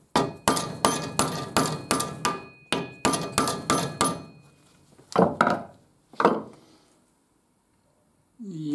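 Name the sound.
hammering a screwdriver to move a BMW motorcycle bearing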